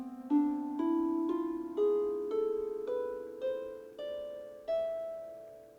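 Plucked strings of an ancient lyre in a reconstructed historical tuning with a Middle Eastern character, eight single notes picked one at a time in a rising sequence, each ringing and decaying softly, no voices.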